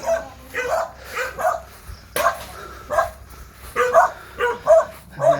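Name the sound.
dog barking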